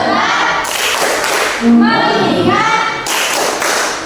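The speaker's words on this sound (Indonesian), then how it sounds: "Coba kita kembali tepuk fokus." Junior high school pupils in a classroom perform the 'tepuk fokus' clapping routine, sharp rhythmic bursts of claps and taps between spells of children's voices chanting together.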